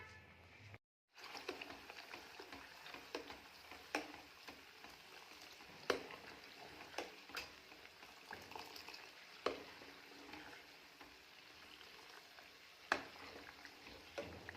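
Homemade ghee bubbling in a pan, a quiet continuous fizzing sizzle broken by occasional soft pops, heard close with no talking.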